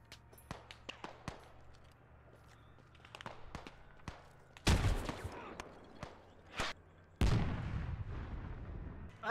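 Grenade explosion and gunfire in the video game Squad: scattered sharp shots and thuds followed by two heavy booming blasts, fairly close and loud.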